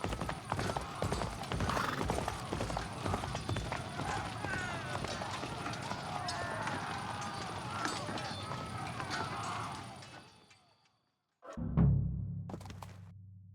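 Horse hooves clip-clop at a running pace in the medieval video game Kingdom Come: Deliverance II, with whinnies and close, steady galloping that cuts out abruptly, followed by a brief low thud and faint sounds.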